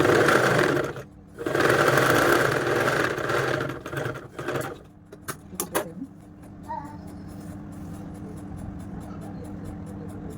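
Sewing machine stitching a kids' frock: two long bursts of loud motor whir with brief stops, then short stuttering runs and clicks settling into a quieter low hum.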